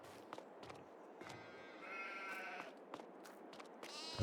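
A few sheep bleat intermittently at moderate distance on a Farming Simulator 22 farm map, short calls spaced over a quiet ambient background.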